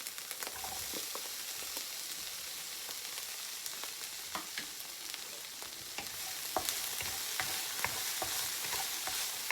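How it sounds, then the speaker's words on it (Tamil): Chopped onions fry in a pan for a drumstick leaf stir-fry, giving a constant bright sizzle with scattered scrapes and taps of a spoon stirring, close and with no talk. "அடுத்தது நான் வெங்காயத்தை போடுறேன்"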